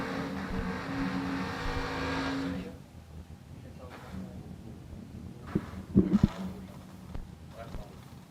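A Camaro and a rival car drag race at World Wide Technology Raceway, with loud engine roar for the first few seconds before fading to a distant rumble. An announcer talks over it.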